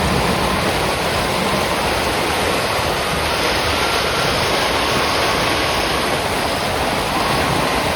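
A small stream swollen into a flood by unseasonal rain, roaring loudly and continuously like rushing floodwater, a dense, close, unbroken wash of water with no voices.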